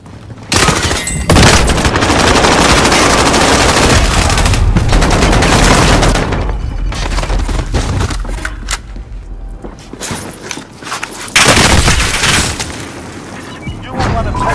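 In Call of Duty Warzone, dense bursts of gunfire and heavy booms crowd together, loud and close, then briefly thin out before another rapid volley erupts.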